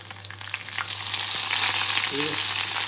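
Curry leaves hitting hot oil, a loud close sizzle that swells and holds as a steady crackling hiss, with a low hum beneath and a brief faint voice near the end.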